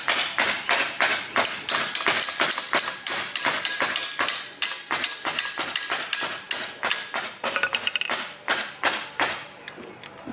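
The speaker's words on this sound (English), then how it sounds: "So I'm going to keep hammering it, it's turning." A spanner wrench is hammered on an old Honda Z50 frame to break a stuck part loose: a rapid, steady run of sharp, loud metallic strikes, close up, continuing for the whole stretch.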